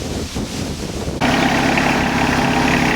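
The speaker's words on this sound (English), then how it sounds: "right now the very expensive tractor is simply being used for a 5-gallon bucket carrier" A tractor engine idles steadily on a farm during potato digging, a low constant rumble that comes in loud and close after a quieter, windy stretch at the start.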